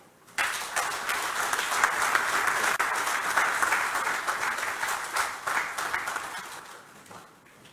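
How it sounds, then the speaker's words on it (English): Loud, dense applause fills a hall at the official commissioning and handover of the AfCFTA Secretariat in Ghana, starting abruptly, holding steady for several seconds, then thinning out toward the end. "may I ask for another round of applause"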